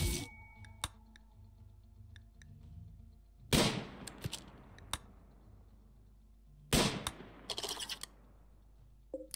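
Two sharp gunshot bursts from the video game RimWorld, each followed by a quick rattle of smaller cracks, over a low steady background with scattered faint clicks.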